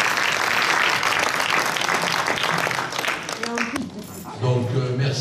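Applause from the audience at a general assembly in Remich, a dense round of clapping that fades after about four seconds, followed by a speaking voice.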